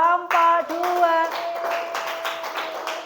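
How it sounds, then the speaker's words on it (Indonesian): Children in a classroom clap for a student group after a presentation, a short burst of hand claps mixed with kids' voices calling out over it. "Tepuk tangan untuk kelompok 2."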